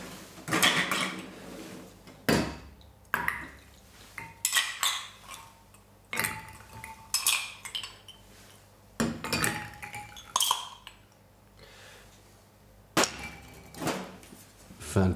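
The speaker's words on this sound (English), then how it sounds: "And then we're just gonna add some ice to the glass." Ice cubes dropped into a glass for a homemade turmeric and ginger soda, giving a series of close, bright clinks and rattles in irregular bursts over about fifteen seconds, with no talking.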